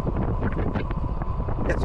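Wind buffets the microphone while riding a MeeBike Gallop electric bike at speed, a loud continuous rumbling gusty roar with no clear talk.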